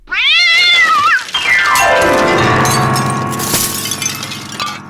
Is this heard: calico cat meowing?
yes